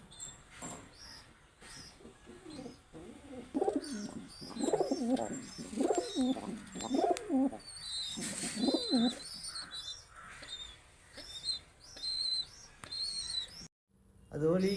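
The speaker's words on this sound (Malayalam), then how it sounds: "സാധാ പ്രാവ്." Common pigeons coo repeatedly in soft, throaty rolling calls, close by, with faint chirps from other birds and a voice speaking briefly in the background.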